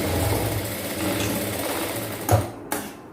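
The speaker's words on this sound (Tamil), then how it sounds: "ஸோ திரும்ப இன்னொரு தையல் போட்டுக்கிறேன்." A sewing machine runs steadily while stitching a chudidhar top, a close whirring hum that stutters near the end with a couple of sharp clicks as it stops.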